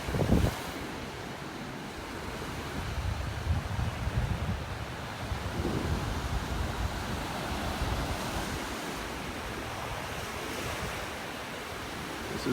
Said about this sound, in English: These waves are something this morning.